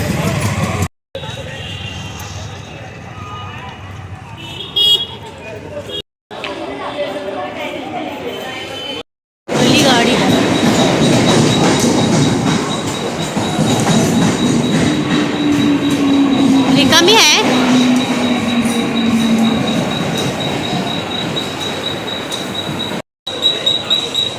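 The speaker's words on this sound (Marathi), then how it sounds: "गर्दी नाही आहे गाडी लागलेली आहे महालक्ष्मी" Mahalakshmi Express train stands at a busy railway station, with rumbling rail noise, a long wheel squeal and passing carriage sounds, interrupted by several cuts, while people talk nearby.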